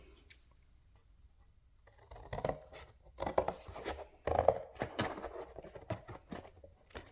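Scissors snip through a vintage Christmas card in a few short bursts of crisp cutting and paper rustle, close up, after a quiet start, with no talking.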